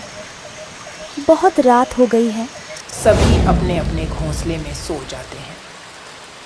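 Cartoon rain falls at night with a steady hiss that swells midway, beneath a narrator speaking Hindi.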